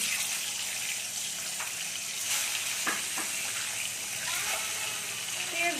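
Eggs drop into hot oil in a pan and sizzle with a steady, hissing crackle throughout, with a few faint knocks and pops near the end.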